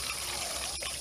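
White vinegar pours over a rusty axe in a plastic container, a close, steady trickling stream of liquid that runs for about a second.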